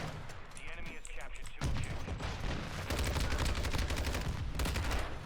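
Lachmann-556 rifle fired in a first-person shooter video game, rapid continuous automatic bursts with a dense crackling texture, loud and sustained through most of the clip after a quieter opening, with a voice talking underneath.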